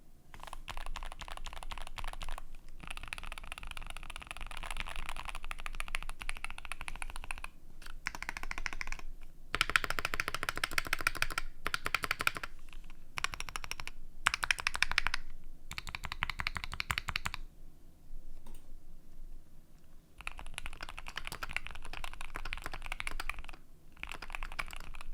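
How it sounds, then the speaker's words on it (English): Typing on a Keychron Q1 HE, a 75% Hall Effect keyboard, gives a fast, even clatter of keystrokes in bursts with short pauses between them, close and clear with no talk. "I'm gonna do a little typing test for you guys so that you guys can sort of get an idea of how this keyboard sounds."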